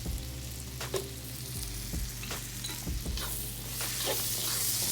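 Mushrooms and onions fry in a wok with a steady close sizzle, broken by several louder scraping stirs of the spatula, and the frying swells toward the end.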